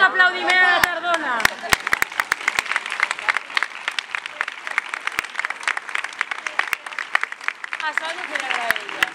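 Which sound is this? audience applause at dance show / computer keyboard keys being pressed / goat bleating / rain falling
audience applause at dance show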